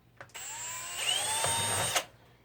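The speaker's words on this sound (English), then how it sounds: "And I'm just going to drill" Power drill boring a hole into a plastic 5-gallon hydroponic bucket, heard close up as a short whining burst that rises in pitch and then cuts off, with no voice over it.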